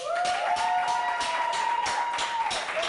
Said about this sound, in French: Applaudissements pour Pacha Lendalo.